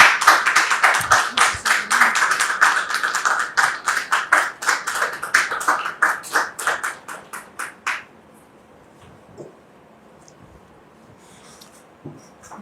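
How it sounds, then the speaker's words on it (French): Studio audience on a French-language talk show clapping in sharp, rhythmic unison, loud and close for about eight seconds, then stopping abruptly and leaving a near-silent room with a few faint sounds. "Recevons-la maintenant avec vos applaudissements"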